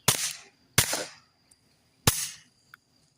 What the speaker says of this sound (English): we were out with the SilencerCo Warlock 2 on my P17, shooting Remington Supersonics, 40 grain.